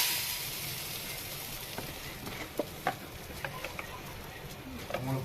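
Marinated fish sizzling and frying on a flat dosa griddle, a steady hiss of hot oil with occasional small pops and crackles, close and moderately loud throughout.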